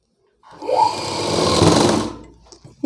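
A sewing machine runs in one loud, continuous burst of about a second and a half while stitching a school uniform coat, starting up with a rising whir and then winding down.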